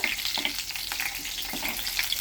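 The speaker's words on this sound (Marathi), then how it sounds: "आता मी त्याच्यात लसूण टाकते" Garlic sizzles steadily in hot oil in a frying pan. The frying is close and constant, with bright crackle and small popping bursts, and no talking.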